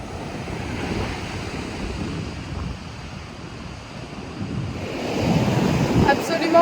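Indian Ocean surf washing ashore at sunset on a Mozambique beach, a steady broadband rush of breaking waves with wind buffeting the microphone, swelling louder near the end as a wave breaks closer.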